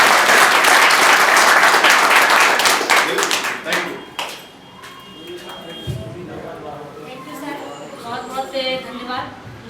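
Loud applause from an audience at a celebration event in Amarkantak, dense clapping that lasts about four seconds and then dies away into quiet room noise and scattered talking.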